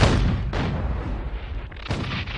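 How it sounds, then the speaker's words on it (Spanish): Mexican artillery cannon fire in a continuous barrage on a fort, heavy booming blasts rolling into one another with dense low rumble throughout, loud and close with no pauses. "La artillería mexicana en Matamoros inició una barrera de fuego continua sobre el Fuerte Texas."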